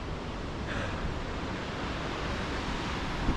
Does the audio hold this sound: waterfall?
yes